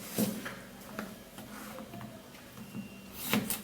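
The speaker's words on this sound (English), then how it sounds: "So we're going to patiently cut this cucumber." A knife cutting a cucumber into cubes, a few crisp close chops against a board spaced irregularly, with quiet handling noise between strokes.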